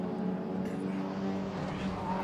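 A V8 race car's engine roars as it pulls slightly away from an MG Midget on a British sportscar circuit, a fairly distant, steady motor drone with faint commentary-like voice in the mix.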